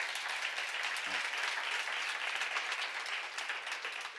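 A church seminar congregation breaks into a steady wash of applause, dense and fairly distant, filling the whole few seconds without talk.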